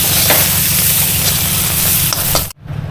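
Fish sizzles loudly in hot oil in a home kitchen pan, a dense continuous hiss close up that cuts off abruptly near the end, followed by a quieter crackle.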